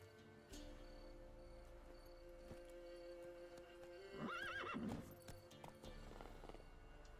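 A video game horse whinnies loudly in a short rising-and-falling neigh midway through, over a steady hum of game ambience and soft hoof clip-clops.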